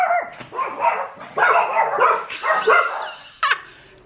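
Several dogs bark and yap excitedly up close in repeated overlapping bursts, with a few higher whiny yips mixed in.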